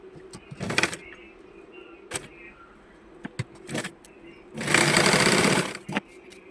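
Sewing machine stitching a small puff sleeve in short bursts, then one longer steady whirring run, close and loud, with quiet handling noises between runs.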